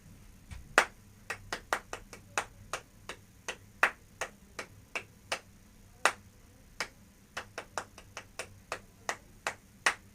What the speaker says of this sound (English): Just clap the rhythm.